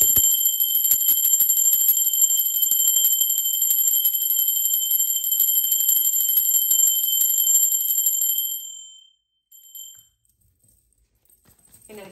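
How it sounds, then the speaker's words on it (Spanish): A bright metallic bell rings with a sustained, shimmering tone for about eight seconds before cutting off, followed by a few faint clinks and near silence. "Ahora sí, va campana y va la lectura para ustedes."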